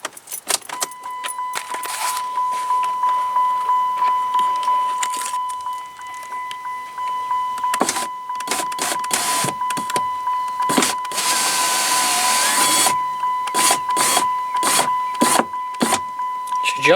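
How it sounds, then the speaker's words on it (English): A power window motor on a Dodge Avenger after a window regulator replacement, whirring in repeated runs as the glass moves, with a steady electronic tone in the background and a person speaking between the runs. "I have the motor hooked up now. We're going to try to power it on, see if everything works"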